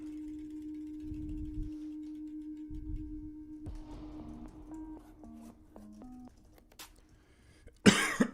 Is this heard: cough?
yes